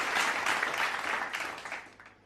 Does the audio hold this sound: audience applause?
yes